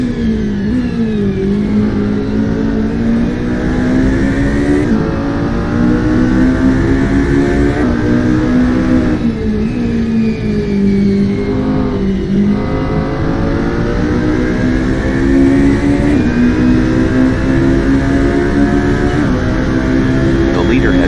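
Race car engines in a virtual racing game as a car exits the pits: a loud, continuous engine drone that rises and falls in pitch with gear changes and revving for the whole stretch.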